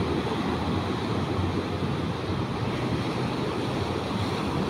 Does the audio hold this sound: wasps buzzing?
no